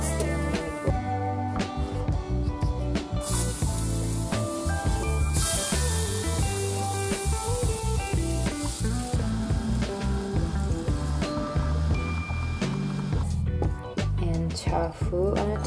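Butter sizzles and spits in a hot frying pan while vegan bowl ingredients cook, a steady hiss held under loud, continuous background music.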